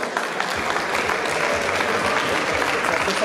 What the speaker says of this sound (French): On peut les applaudir, je pense